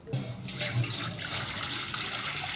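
Water poured into a pot on a gas stove while cooking a Thai dish, a steady splashing, gurgling stream heard up close and continuous throughout.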